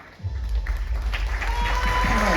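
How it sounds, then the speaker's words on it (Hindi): Seminar audience bursts into applause after a brief quiet start, steady clapping mixed with murmuring and low rumbling thumps for the rest of the stretch. "जोरदार तालियां।"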